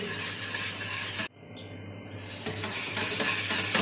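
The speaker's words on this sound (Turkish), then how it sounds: "çırpıyoruz çırpıyoruz. Güzel bir karıştırıyoruz." Cake batter ingredients, including baking powder, are briskly whisked in a bowl, a dense scraping, rhythmic swish that cuts out briefly and then resumes, close and steady with no talk.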